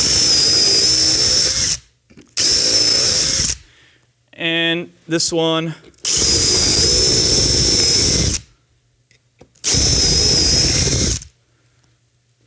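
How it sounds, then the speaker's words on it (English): A power drill bores holes through a bumper in several loud, close bursts of a few seconds each with pauses between, and a person briefly speaks during a gap. "And now we can drill through."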